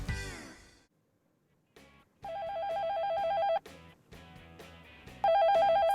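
A telephone bell rings in loud, buzzy bursts separated by short gaps in a TV shopping studio, following a fading tone and a moment of near silence.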